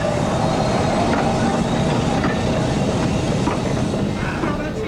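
A railway train rolls past close by, producing a loud, steady rumble with faint clattering of wheels on track throughout.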